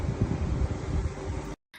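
Outdoor wind buffeting the microphone produces a steady low rumbling roar that cuts off abruptly near the end.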